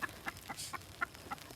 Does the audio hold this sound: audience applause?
no